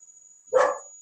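A single short dog bark rings out close and fairly loud against a quiet background with a faint steady whine.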